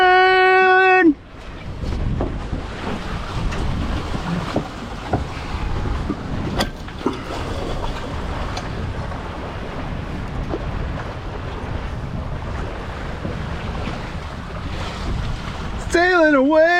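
A MacGregor 26 sailboat under sail in the Florida Keys, with a steady rush of wind and water against the hull, brief voice-like tones at the start and end.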